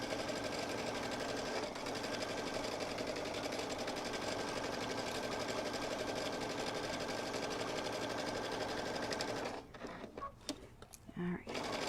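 A sewing machine stitches a kimono-style robe with a fast, steady mechanical chatter close by, running continuously before stopping near the end and giving way to a few quieter handling sounds.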